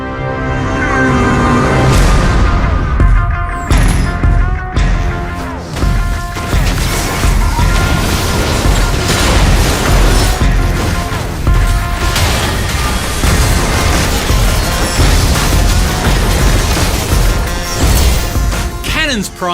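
Cannons firing in the mobile game League of Legends: Wild Rift, loud booming blasts and crashing impacts layered over a driving music score, repeated hits throughout, no spoken voice.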